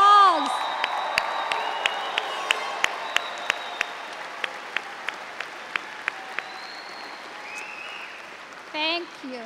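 Applause from a large commencement audience rises for standing family and friends, a broad wash of clapping with occasional sharp individual claps and a few cheers, tapering off toward the end.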